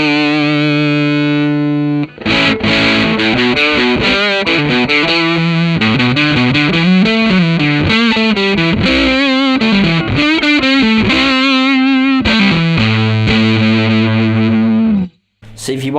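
An electric guitar runs through a Thorpy FX Veteran silicon fuzz pedal with the smooth control at full, giving a thick, woolly, spitting low end as loud riffs and sustained notes play for most of the passage before a brief cut near the end.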